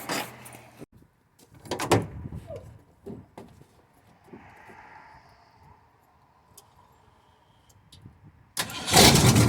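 Box van engine cranking and catching with the exhaust removed, preceded by keys and a door clunk, then a loud raw bark of the engine firing at the end after quieter handling noises.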